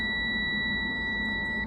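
A multimeter's continuity beep sounding while a cut wire on an UltraVacu 150 chamber vacuum sealer seal bar is tested, heard as a steady, clear electronic tone held for under two seconds.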